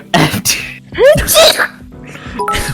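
A person sneezes loudly at close range, with short breathy intakes before it and brief throat sounds after.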